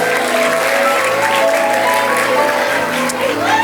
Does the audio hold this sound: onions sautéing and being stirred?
no